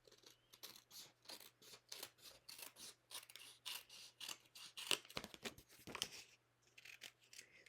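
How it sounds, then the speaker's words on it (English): Scissors snip steadily through designer paper, trimming excess from a handmade envelope in a quick run of close, crisp cuts with brief pauses, over a faint low hum. "now I'm just going to trim away whatever isn't envelope"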